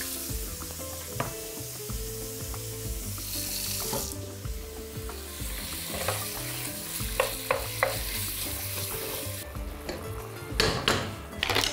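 Beef sizzling and frying in a pan while being stirred, a steady crackle with occasional clinks of utensils and a brief splash of water near the end, no talking.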